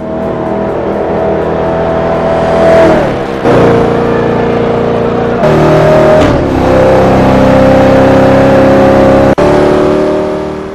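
A 1988 GMC Vandura van engine in a racing game revs loudly and steadily, pitch rising and dipping through gear shifts, with a couple of abrupt cuts, close and alone.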